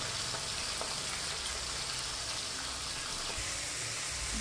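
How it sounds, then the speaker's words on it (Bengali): Mourola fish frying in a kadai, a steady, dense sizzle and crackle of hot oil that runs unbroken throughout with no voices. "মাছটা আরেকটু ভাজা হবে,"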